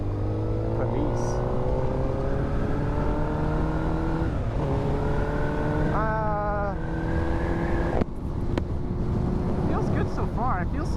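A 2006 Suzuki GSX-R1000 K6 motorcycle drones steadily as it rides along, its engine pitch climbing and dipping through gear changes, with wind noise and a rider talking over the ride.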